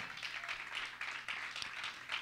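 A church congregation claps together during a Tuesday prayer service, a steady, moderately distant patter of many hands with uneven rhythmic pulses that runs throughout.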